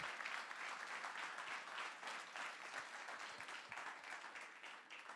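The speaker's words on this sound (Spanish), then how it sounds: "Dale el aplauso al Señor si se lo va a dar." Church congregation applauding during a Spanish-language sermon, a continuous wash of clapping that is fairly faint and distant and steady throughout.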